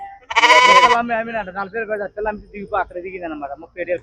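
Sheep bleating loudly at a sheep and goat market, one strong bleat up front followed by people talking over the busy market.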